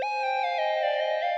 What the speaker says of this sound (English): Just pulled up this synth lead from Electra X again, and it's gonna sound like this on its own.